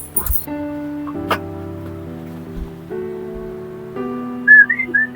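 A person whistles a simple tune in sustained held notes, close and clear, with a few brief knocks and a higher chirpy flourish near the end.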